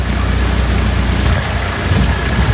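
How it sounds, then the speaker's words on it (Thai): Heavy rain pours steadily outdoors near a workshop where a car's brakes and ball joints are being serviced, a dense continuous hiss with low rumbling that may be distant thunder, no voices. "ฝนตกโปรยปลายกัน"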